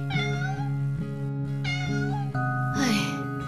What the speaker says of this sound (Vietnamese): một con mèo hoang